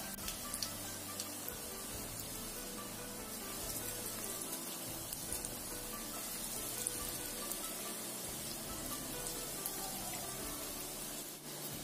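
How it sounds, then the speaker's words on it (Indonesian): Shrimp-filled potato balls frying in hot oil over medium heat, a steady, dense sizzle and crackle running without pause throughout, fairly quiet and with no voices. "Kita goreng sampai matang semuanya."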